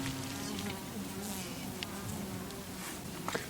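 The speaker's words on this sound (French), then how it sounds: "Donc les abeilles, elles risquent d'être un peu nerveuses là devant." Honeybees buzz at the front of a hive, a dense, continuous droning hum that stays close and loud throughout, with no talking.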